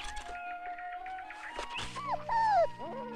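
A shepherd dog whimpers and yips in a run of short, high, wavering cries that rise and bend in pitch, close and fairly clear, with a dull thunk partway through.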